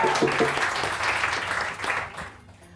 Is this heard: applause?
yes